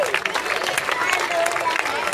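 Audience applause at a youth football teams' presentation at a garden nursery park, steady dense clapping from a crowd throughout, with an announcer's voice mixed in.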